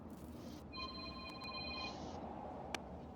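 A telephone rings once with a short electronic tone, faint and alone above a hissy background, followed by a soft click.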